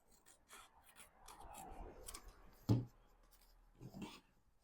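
A blade rasps through a wooden clothes pin just past its metal spring, a series of short scraping strokes ending in one sharper snap-like cut, close and quiet with no talking.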